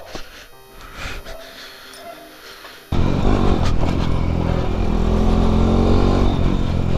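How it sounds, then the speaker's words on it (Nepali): After a few seconds of quiet clatter, a motorcycle engine suddenly roars up close and keeps running loud and rough until the end. "बाइक खतरा फोर्छ"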